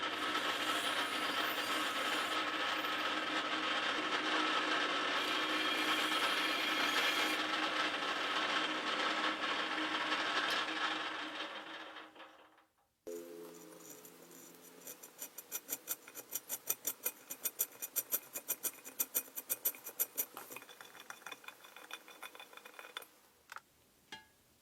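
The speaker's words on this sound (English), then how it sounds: "The rivet holes are just under the drill size for M4, so I'll drill and tap for that size." Drilling and tapping rivet holes to take M4 screws on a Land Rover part: a loud, steady power-drill whine for about twelve seconds, then a pause, then a series of quieter scraping, ratcheting tapping strokes.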